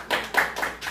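A church congregation claps in quick uneven bursts to acclaim the Lord, several hands striking close and fairly loud within under a second.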